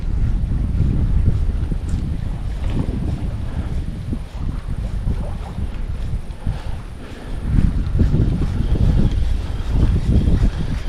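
Gusting wind roars across an open river during chub fishing on the Moksha, steady low rumble with buffeting surges and microphone wind noise throughout, no voices.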